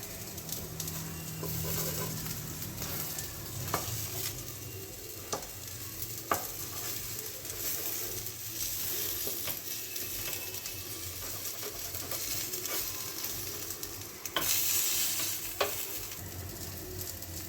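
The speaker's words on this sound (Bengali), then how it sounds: "বাকি ডিমটাকেও আমি এভাবেই ভেজে নেব।" Egg omelet frying in a pan with a soft, steady sizzle and occasional spatula taps and scrapes, fairly quiet and close, without any talking.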